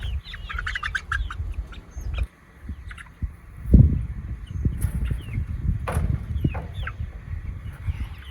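Chickens clucking and squawking close by on a homestead farm, with busy bursts of calls, a rustle and a thump midway, then more scattered clucks.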